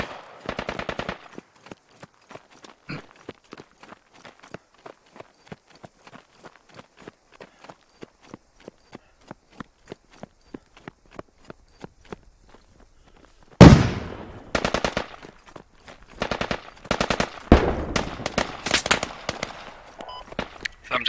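Gunfire in the tactical shooter Squad on the Kohat Toi river valley map: a long run of sharp, evenly spaced distant shots, then much louder, closer bursts of rapid fire near the end.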